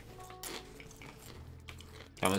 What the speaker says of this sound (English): I crunch a chip right next to it?